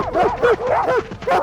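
Dogs bark in a quick run of short, yelping barks close to the microphone, the brief burst over within a second and a half.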